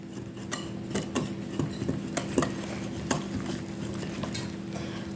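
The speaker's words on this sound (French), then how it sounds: "Faut bien mélanger jusqu'à obtenir une pâte lisse et homogène" A utensil stirs muffin batter with brown sugar and baking powder in a bowl, giving steady, close scraping and soft clinks against the bowl, with rhythmic knocks at a moderate level and no talking.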